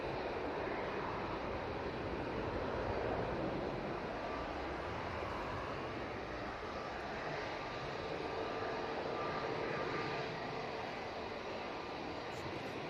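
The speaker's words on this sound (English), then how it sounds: "there's the Luxair Dash 8 just touching down" A Luxair Dash 8 turboprop touching down at Manchester Airport makes a faint, steady, distant broadband roar, with wind noise and no voices.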